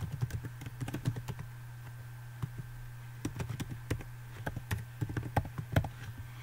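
Login credentials being typed on a computer keyboard, with quick irregular bursts of close, crisp key clicks separated by short pauses over a low steady hum, and no talking.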